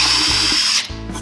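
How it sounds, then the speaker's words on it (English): A power drill bores a small pilot hole in the center of a wooden workpiece in a router circle-cutting setup, one brief loud high whine that cuts off abruptly, with no talk. "putting a little pilot hole in the center."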